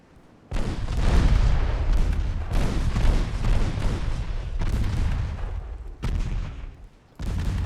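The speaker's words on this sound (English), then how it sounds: "Let's get one more salvo. 7-inch guns." In a World War I naval war game, a salvo of 7-inch naval guns booms out in long, heavy rumbling blasts, one after another, loud and dense with low-end roar.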